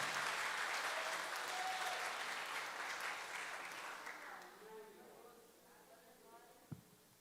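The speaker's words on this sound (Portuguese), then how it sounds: "Você pode dar uma salva de palmas ao Senhor nessa manhã?" A church congregation claps loudly in a dense burst at a Sunday service, then the applause thins and fades out after about four seconds, leaving a quiet room with a single knock near the end.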